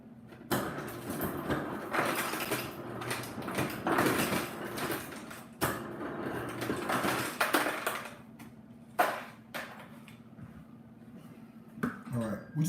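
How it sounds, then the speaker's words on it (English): Ice cubes clatter and crunch as they are scooped and dropped into a pitcher and a glass in a home kitchen while making cranberry margaritas, in loud irregular bursts with pauses between. "And let's get some ice."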